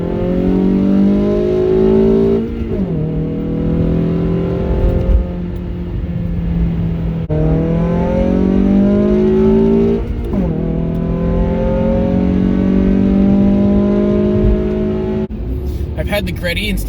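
A Greddy RS Revolution 2.5-inch catback exhaust on a car, revved repeatedly: loud, close engine swells rise and fall in several rhythmic pulls, with a slight warble, over a continuous idle drone.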